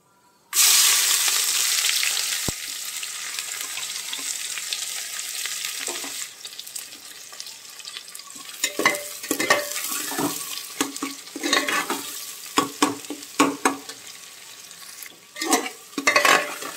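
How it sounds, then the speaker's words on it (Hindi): Chopped onions frying in hot oil with cumin and black cardamom for mutton masoor dal, loud hissing sizzle at first, then settling into crackling broken by repeated spatula stirs and clinks; no talking. "प्याज को हम बिल्कुल भूरा कर लेंगे"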